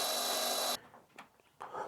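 A small power drill fitted with a 1/16 bit whines steadily while pre-drilling a pilot hole in the Sig Tango MSR LVPO rifle scope, then stops, with some handling noise before a second short burst of drilling.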